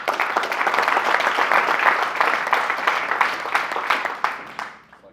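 An audience gives a warm round of applause, dense and fairly loud for several seconds, then thins out and fades away at the end.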